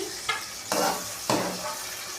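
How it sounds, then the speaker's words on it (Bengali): Eggplant pieces fry lightly in hot oil, a steady sizzle broken by a few scraping stirs of a utensil in the pan, close and moderately loud. "বেগুনগুলো আমি হালকা করে ভেজে নেব"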